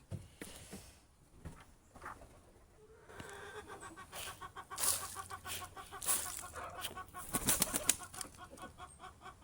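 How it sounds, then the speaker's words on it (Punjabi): Hens are let out of their coop and fed in a rainy Lebanese mountain setting, giving repeated clucks and squawks with bursts of wing flapping, growing busier and louder toward the end. "ਲਓ ਜੀ ਆਪਣੀਆਂ ਆਪਾਂ ਮੁਰਗੀਆਂ ਵੀ ਛੱਡ ਦਈਏ ਮੀਂਹ ਪੈਣ ਕਰਕੇ ਵੀ ਲੇਟ ਹੋ ਗਈਆਂ ਛੱਡਣ ਨੂੰ"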